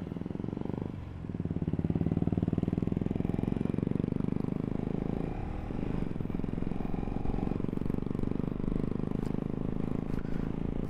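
A Kawasaki Ninja 300 motorcycle rumbles with a steady, throaty engine and exhaust drone during a group ride, holding a constant note close by with slight swells and no talk.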